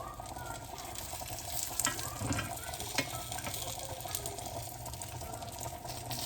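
Steady sizzling of Polish pork cutlets frying in a hot pan, continuous crackle with a few clinks of utensils, no talking.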